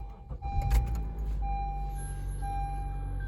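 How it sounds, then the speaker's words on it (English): A Honda car engine starts up fresh after a Castrol Edge oil change: a short cranking burst gives way to a steady, moderately loud idle hum with a thin whine and a few faint clicks, no talk. "Starting the car with the new Castrol Edge oil."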